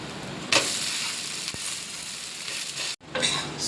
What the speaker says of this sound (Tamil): இப்போ தோசை ஊற்ற போகிறோம்.